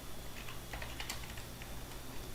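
Quiet keyboard typing on a computer at a command prompt, a scattered run of soft clicks over a steady low background hum, no voices.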